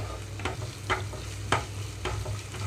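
Ginger garlic paste frying in a pan over a medium flame, with a steady sizzle and a low hum beneath, punctuated by about five regular scraping stirs, close and clear with no speech.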